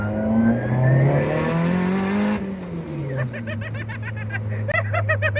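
A loud turbocharged Toyota 3S-GE engine in an AE86 drift car revs up and climbs through the gears, its whine rising and falling, followed by rapid chirping bursts as it keeps accelerating.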